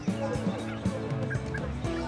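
Young bantam chickens at a busy pet market cluck and call in repeated short bursts, close by and steady over a constant background din, without clear talk.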